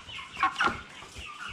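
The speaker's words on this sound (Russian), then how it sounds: "Крайняя курочка." A 38-day-old hen being weighed in a basin gives two or three quick, close clucks over a quiet background.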